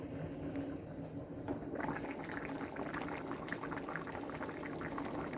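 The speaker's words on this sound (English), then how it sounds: "Look at it boiling away." A pot of goulash with tomato boils on a kitchen stove, giving a steady bubbling and simmering close by with no voices.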